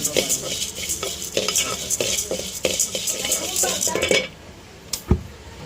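Toor dal and rice are stirred and fried in a pan, a spoon scraping and clinking in quick repeated strokes over a light sizzle, then a final knock on the rim.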